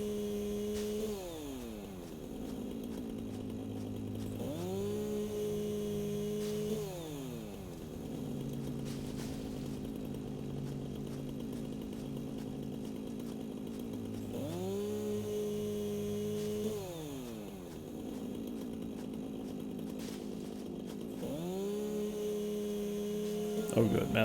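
A chainsaw in the video game Satisfactory cuts down trees. A steady droning engine whine rises and falls in pitch in repeated cycles of a few seconds, each cut revving up and then easing off.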